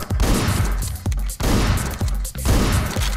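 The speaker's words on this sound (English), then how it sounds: "The shotgun only got 6 shots." Shotgun blasts in the video game Hotline Miami, three loud, punchy shots roughly a second apart, each with a sharp crack and short booming tail, no talking.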